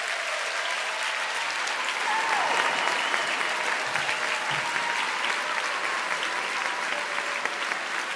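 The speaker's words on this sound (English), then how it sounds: "Let's give them a round of applause, everyone." Sustained applause fills a book awards ceremony hall as the crowd honours the judges and presenters, a broad, even roar of clapping that holds steady for several seconds.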